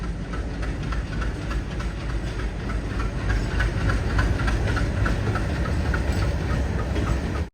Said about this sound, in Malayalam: കറക്റ്റ് 8:20 തന്നെ നമ്മുടെ ട്രെയിൻ മധുരൈ ജംഗ്ഷൻ റെയിൽവേ സ്റ്റേഷനിൽ നിന്ന് എടുത്തിരിക്കുകയാണ്